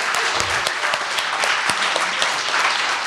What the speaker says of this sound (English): Can we just give one round of applause again for everybody who got up and spoke?